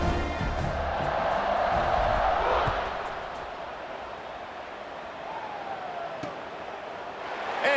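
Stadium crowd cheering in an NCAA 26 college football video game, home fans roaring during a lopsided Indiana versus Illinois game; a broad, sustained roar swells loudly for the first few seconds, then eases into a steady background din.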